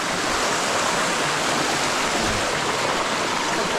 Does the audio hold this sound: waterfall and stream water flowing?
yes